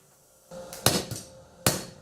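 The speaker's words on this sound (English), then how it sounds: "Blacksmithing is the ancient craft of hammering heated iron or steel into usable objects." Hammer blows on heated steel while forging a Bowie-style knife: three sharp, loud metallic strikes with a faint steady hum between them, the blows unevenly spaced.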